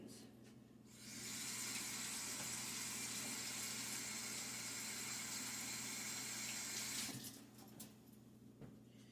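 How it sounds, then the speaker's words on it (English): Water runs from a tap during handwashing, a steady broad hiss that starts suddenly, holds for about six seconds and then cuts off, close and moderately loud with no speech. "I need to wash my hands."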